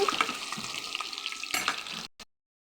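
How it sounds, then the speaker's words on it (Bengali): Potatoes sizzling and frying in a pan, a close, steady crackling hiss with light stirring, cutting off abruptly near the end. "আলু আছে, ভাজি শুরু করে দিয়েছি।"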